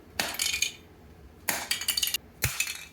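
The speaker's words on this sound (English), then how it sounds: "Full hammer hits." A hammer strikes a 3D-printed PLA filament test piece in three separate bursts of sharp cracking and clinking, each followed by fragments rattling and scattering, close by and fairly quiet.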